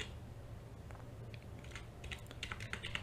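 Typing on a computer keyboard, a quiet run of irregular key taps that grows busier toward the end, over a low room hum, with no speech.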